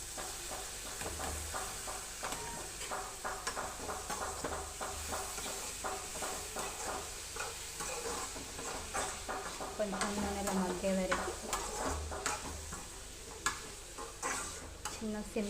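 Boiled cholakaya vegetable stirred and frying in an oil pan with curry leaves, giving a steady sizzle with repeated scraping and stirring clinks throughout, close and moderately loud.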